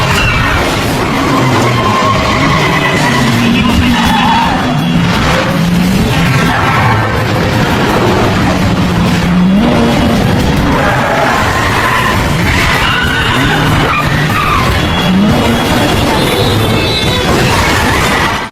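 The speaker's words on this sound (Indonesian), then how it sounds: "Kiril juga merampas mobil milik pengendara lain sehingga kini Jason dikejar oleh Kiril dan petugas kepolisian setempat." Car chase from The Bourne Identity with skidding tires, engine roar, crashes and impacts, loud and continuous throughout with dense overlapping action noise.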